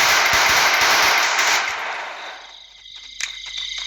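Rapid automatic gunfire from a Clash Squad match in Free Fire crackles loudly in dense bursts, then thins out into scattered shots and ambient noise.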